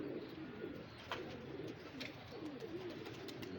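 A pigeon coos softly from a rooftop in Lahore, its low rolling calls repeating faintly over a steady background hum, with a few brief chirps and no voices.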